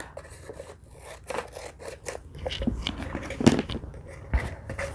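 Scissors snip through pineapple craft material, a run of short, close cuts and rustles in an uneven rhythm, fairly quiet with no talking.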